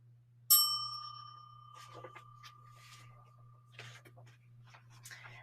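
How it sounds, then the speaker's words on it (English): A single bright bell chime rings out clearly as a page-turn signal for a read-along audiobook, its tone ringing on and fading over faint background rustles. "make sure you turn the page when you hear the bell"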